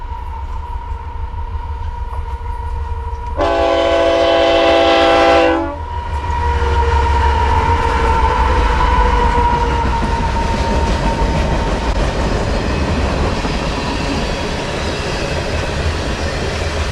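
A passing train sounds its horn in a loud, steady two-second blast over a continuous rumble and clatter of rail cars that carries on long after the horn stops.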